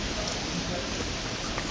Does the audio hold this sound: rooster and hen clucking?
no